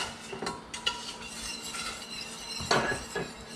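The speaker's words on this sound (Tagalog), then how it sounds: "Haluin mo." Spoon stirring sago and sugar in a cooking pot, with a few metallic clinks and scraping strokes against the pot over a soft background hiss, close and moderately loud.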